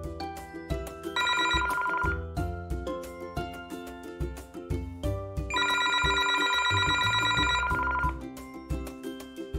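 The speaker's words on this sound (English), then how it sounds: "Telephone." A telephone bell rings in two long trilling bursts separated by a pause, loud and close, over steady background music.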